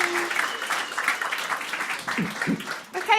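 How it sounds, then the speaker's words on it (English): Audience applause at a live storytelling and spoken-word evening, a brisk burst of clapping from a small room crowd, with voices briefly heard near the end. "Applause for Christopher Fielden."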